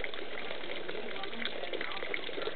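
Cold water runs steadily outdoors near young moringa plants, a constant close rushing and splashing wash with no breaks.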